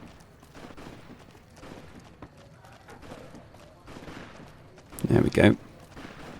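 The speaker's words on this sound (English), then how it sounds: "I can hear the gunshots already." Gunfire in the video game Fallout New Vegas: a short, loud burst of several shots near the end, rising above quieter game ambience while someone talks.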